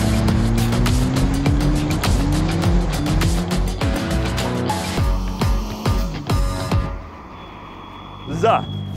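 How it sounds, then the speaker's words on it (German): A rally car on spiked tyres roars and revs hard with gear changes across a frozen lake in Sweden, loud and close, tyres crunching over the rough ice, fading at the end. "Rallye-Auto, diese ewigen Spikes, du hast Traktion ohne Ende."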